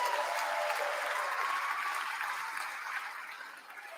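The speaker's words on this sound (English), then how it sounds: "Give yourself a round of applause." Awards-ceremony audience applause, a dense, sustained clapping from a large crowd that stays strong and then slowly tapers off toward the end.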